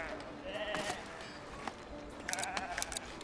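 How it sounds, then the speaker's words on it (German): Sheep in the video game Foundation bleat a few times, short wavering calls over a low background hum, faint and mid-distance, with a voice talking around them. "guck mal hier, die kleinen Schäfchen, die sehen auch süß aus"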